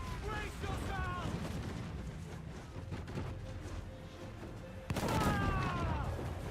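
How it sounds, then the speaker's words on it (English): Ship cannons fire in the Assassin's Creed IV Black Flag naval combat, booming repeatedly and loudly over rough sea and wind noise, with a heavy volley near the end while voices shout orders. "Cannon ready! Fire! Fire!"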